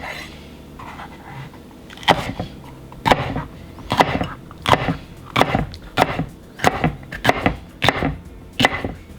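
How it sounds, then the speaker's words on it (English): A knife chops a seeded red pepper on a board in a steady run of about a dozen sharp, close knocks spaced roughly half a second apart, loud and clear without talk. "I'm just going to remove the seeds and give a quick chop."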